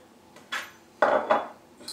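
Spoon stirring yeast into warm water in a bowl, giving a few sharp clinks and scrapes against the dish in quick bursts, close and fairly loud.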